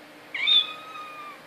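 A single clear cat meow, rising then trailing off over about a second, close and moderately loud against a quiet background.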